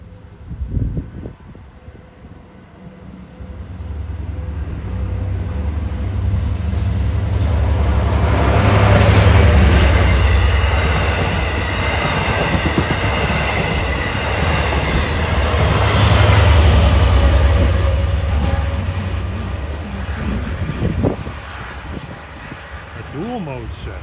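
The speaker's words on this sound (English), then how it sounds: "Approaching east on 1 is train 510 from Jamaica to Oyster Bay." LIRR train 510 from Jamaica to Oyster Bay approaches eastbound on track 1 at New Hyde Park station, its rumble building to a loud roar of wheels and engine, peaking twice, with someone speaking over it.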